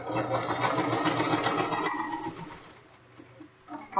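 A sewing machine stitches bias binding onto fabric with a fast, steady mechanical whir that runs close and loud for about two seconds, then stops, while a voice talks over it.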